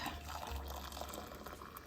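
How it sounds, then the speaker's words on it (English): Liquid poured from a tea kettle into a cup, a steady close trickle and splash running throughout without pause, with a low hum underneath. "I'm going to take this and pour it into my nasty cup"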